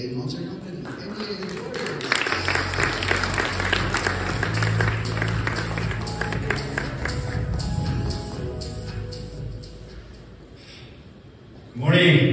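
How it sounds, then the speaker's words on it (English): Audience applause at a Hyundai Motor Company regional launch event in Tunisia, a broad wash of clapping under a speaking voice and music that fades toward the end before a short loud burst. "Please give a warm round of applause to Mr. Jason Yu"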